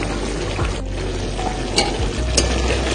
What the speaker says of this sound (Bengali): ভালো করে মিশিয়ে নামিয়ে নেবো